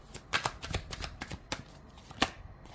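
A deck of tarot cards is shuffled by hand, giving a burst of crisp, riffling slaps and soft flicks up close, uneven in rhythm, with no voices.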